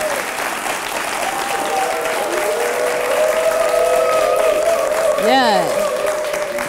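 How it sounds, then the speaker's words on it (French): Studio audience at a French talk show applauds as three guests are introduced, a steady dense clapping bed throughout with a host's voice and music tones over it. "Merci d'applaudir très fort pour Pecha, Harold et Clarisse Badou."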